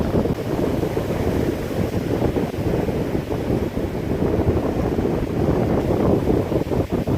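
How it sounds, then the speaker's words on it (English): Strong wind buffets the microphone over steady surf on a fishing beach, a loud continuous roar of gusts and breaking waves with no voices. "That current and that wind is strong."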